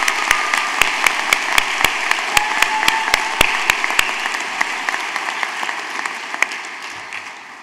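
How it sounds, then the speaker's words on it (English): A college commencement audience gives sustained applause for instructors, a dense, loud wash of clapping from a large crowd with sharp individual claps standing out near the start before it gradually thins. "could I get a little round of applause here to thank all our instructors?"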